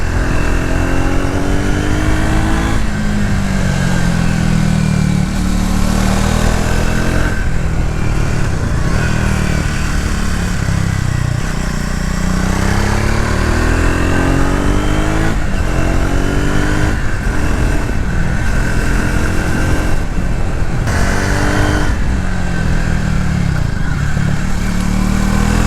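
Close, loud engine of a Triumph Speed 400 motorcycle while riding, revving up and down through gears in repeated rising and falling sweeps, with strong wind rush throughout.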